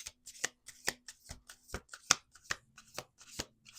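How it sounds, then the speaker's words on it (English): Tarot cards being shuffled by hand, a quick series of crisp riffling snaps and slaps, about a dozen sharp bursts in an uneven rhythm, close and clear. "Let's do two more shuffles"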